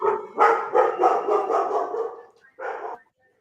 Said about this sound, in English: Even the dog is barking.